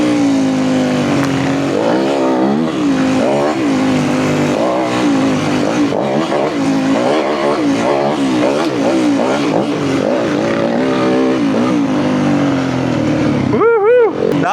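Dirt bike engines revving hard over a bumpy motocross-style track, a continuous loud buzzing drone with rising and falling pitch as riders work the throttle, close and sustained throughout.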